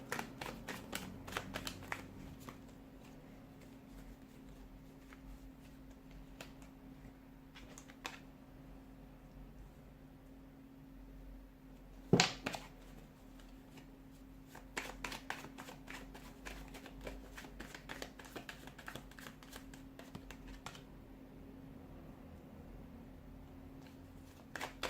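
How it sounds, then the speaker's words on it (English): A deck of tarot cards is shuffled by hand in a quiet room, giving a long run of soft, rapid riffling clicks and flicks in bursts, close and faint, with one sharper snap partway through. "we'll give the cards a shuffle"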